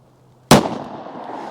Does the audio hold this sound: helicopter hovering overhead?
no